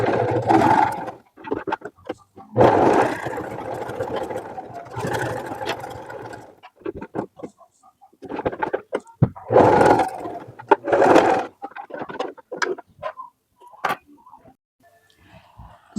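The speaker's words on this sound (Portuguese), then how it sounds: "nós vamos fazer uma costura pé de máquina" A sewing machine runs a seam with the general-purpose presser foot, loud and close, in several bursts of steady whirring stitching separated by short pauses and small clicks.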